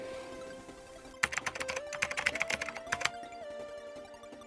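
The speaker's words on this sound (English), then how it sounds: "this would be a good idea to show you what using the keyboard on the Spectrum was like" Rapid clattering keystrokes on the rubber-key keyboard of a Sinclair ZX Spectrum home computer, a dense burst of clicks lasting a couple of seconds under a steady electronic hum and tone.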